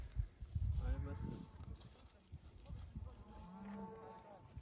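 Cows moo close by on a cycling trip in western Estonia, with a loud low bellow followed by quieter drawn-out calls, while people talk nearby.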